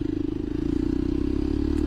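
A Jawa or Yezdi motorcycle engine idles or cruises close by with a steady low, pulsing throb and faint mechanical clatter, no talking.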